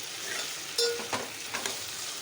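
Half a kilo of okra frying with prawns in a pan, stirred: a soft continuous sizzle with a few sharp spoon scrapes and clinks over about two seconds.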